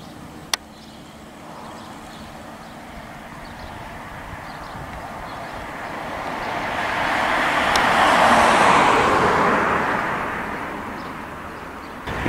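An Austin 7 vintage car drives past on a roadside, its engine noise swelling steadily to a peak and fading away over several seconds against a constant background of road noise.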